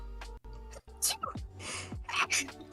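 A sharp human sneeze, then a second one, bursts out close to the microphone during a relaxed comic-book chat show, with voices talking around it and a low hum underneath.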